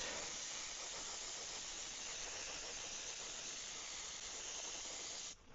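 A steady airbrush hiss sprays white paint onto a vintage wooden Pflueger Mustang fishing lure, holding a continuous close, even jet of air for several seconds before cutting off at the end.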